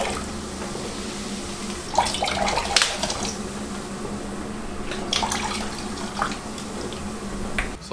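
Apple cider vinegar rinse splashing and trickling into a bucket, with a couple of louder gushes and clunks over a steady background hiss.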